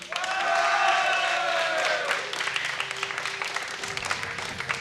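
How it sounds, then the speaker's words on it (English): Crowd applause at a StarCraft II esports tournament, the WCS Europe Premier League semifinals, greeting a player introduction: a loud, dense wash of clapping that swells at first, then eases under a caster's voice. "Give it up for Stephano"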